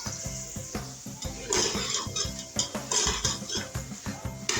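Spoon stirring turmeric powder into mutton yakhni pulao in a metal pot, rhythmic scraping and clinking strokes repeating steadily, close and clear with a faint sizzle beneath.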